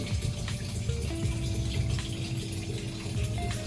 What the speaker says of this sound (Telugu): అందుకే పైనుంచి వాటర్ పడుతున్నాయి చూసారా, అక్కడ ఫిల్టర్ ఉందన్నమాట, ప్యూరిఫైయర్ ఉంది.